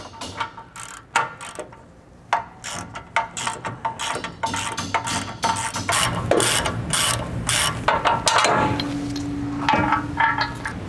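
A ratchet fitted with a 21mm socket works loose the cross member bolts on a 2020+ GM 2500 pickup during a 6.5-inch lift kit install, giving repeated close clicking strokes and metallic knocks in an irregular rhythm.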